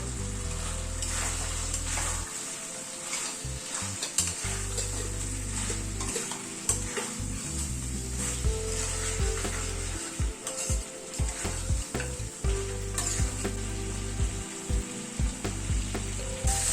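Mutton fries with a yogurt mixture in a pan, a steady close sizzle punctuated by frequent knocks and scrapes of a spoon stirring.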